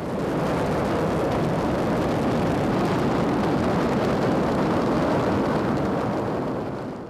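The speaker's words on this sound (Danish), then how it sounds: "Få sekunder senere endnu en eksplosion." A warehouse stocked with fireworks explodes, a continuous loud, rumbling roar of blast and crackling debris filling the whole stretch without a break.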